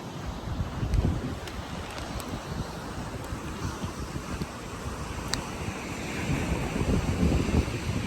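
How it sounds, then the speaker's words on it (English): Ocean waves break and wash steadily onto a small beach in the Canary Islands, a continuous surging roar with gusty wind buffeting the microphone, swelling louder toward the end. "the waves waving"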